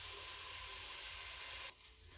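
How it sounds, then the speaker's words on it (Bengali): Onion and garlic fry in a pan for mutton kosha, giving a steady, dense hiss of sizzling that drops abruptly to a quieter simmer near the end. "দেখুন আমাদের পেঁয়াজটা ভাজা ভাজা হয়ে এসেছে, পেঁয়াজ আর রসুনটা"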